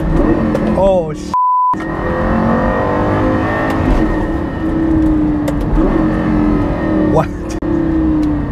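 Lamborghini Gallardo LP560-4 accelerating hard in Corsa mode, its engine revving up in rising surges with quick gear changes, loud and close inside the car, with someone talking and exclaiming over it and a short censor beep.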